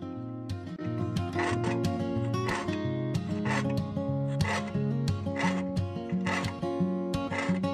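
A hand file rasps across the teeth of a crosscut hand saw clamped in a vise, a steady series of close, regular strokes with short pauses between them, and no talking.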